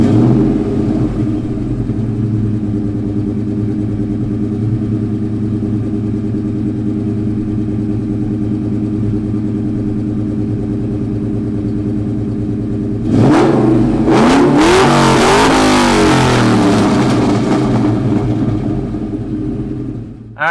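A 2003 Ford Mustang Mach 1 with a 4.6 liter V8 idles with a low, steady burble, then barks into loud, rising revs that climb and fall in repeated bursts near the end; no voices.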